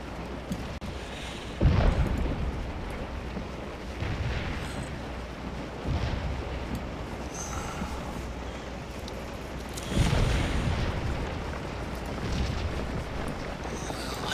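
Artillery fire rumbles through a video game battle, deep booming blasts every few seconds over a constant low roar, distant and heavy with no voices.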